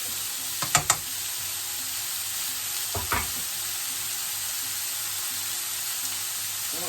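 Beef pilau frying over high heat in a pan, with a steady sizzle throughout and a few sharp scraping knocks of a spoon stirring it, grouped near the start and around the three-second mark.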